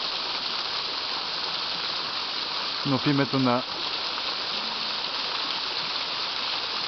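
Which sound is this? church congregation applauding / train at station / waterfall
waterfall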